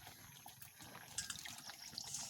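Water trickles and splashes softly as potatoes are rinsed clean for a pomfret curry, a faint, uneven dribble with small sloshes close by.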